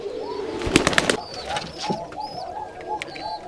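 A pair of young Rajshahi high-flying Giribaz pigeons at a breeding farm coo softly in low, rolling phrases, with a brief cluster of sharp, close clicks or wing sounds near the start.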